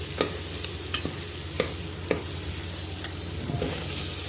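Tomatoes and chicken pieces sautéing in a pan for a Tamil-style chicken kolambu, a steady sizzle with a few sharp clinks of a spoon against the pan at intervals, close and alone.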